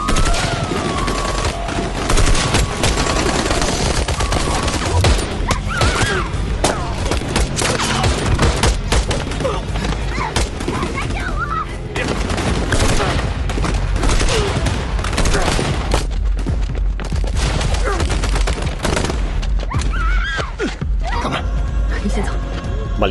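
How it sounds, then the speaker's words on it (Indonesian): Intense shootout gunfire from a film scene between two groups, with dense, continuous bursts of rapid shots and explosive cracks sustained loudly throughout, mixed with other action sounds. "tim SWAT untuk menyerbu markas Fei Li, memicu baku tembak sengit antara kedua kelompok"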